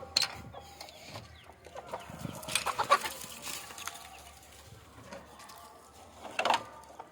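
Free-range country chickens cluck and squawk as their coop is opened in the morning, scattered clucks near and far with louder bursts among them, over faint outdoor background noise.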